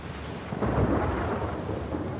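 A thunderstorm in a flooded city in The Last of Us Part II: a loud roll of thunder over steady rain, heavy and continuous for a couple of seconds, with no voices.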